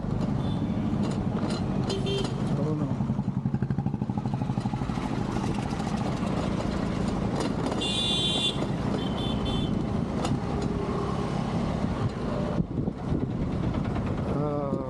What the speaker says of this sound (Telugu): తెనాలిలో స్వల్ప ట్రాఫిక్ ఉంది